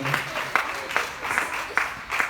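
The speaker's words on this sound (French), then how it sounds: "Applaudissez pour elle." An audience at a singing talent show claps in loose rhythmic bursts, moderately loud, with a voice mixed in underneath.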